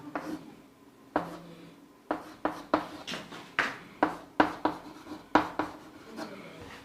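Chalk or marker strokes on a board as a chemistry problem is written out, a series of short scratchy taps and rubs in uneven bursts, fairly close and with no talk.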